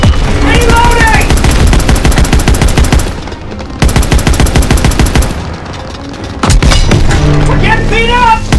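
A Call of Duty WWII tank battle rages with dense machine-gun fire, heavy booms and explosions against Panzer tanks, loud and nearly continuous, with soldiers shouting over the combat.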